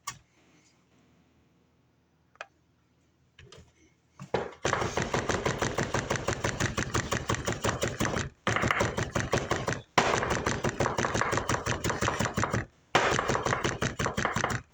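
A knife rock-chops parsley on a cutting board in quick, even taps, close and crisp, running in long bursts broken by short pauses after a few quiet knocks at the start.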